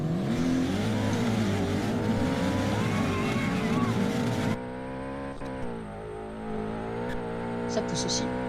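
A GMK car in the video game Classifia V2 accelerates with a steady, loud engine drone that rises in pitch, continuing under a voice talking throughout.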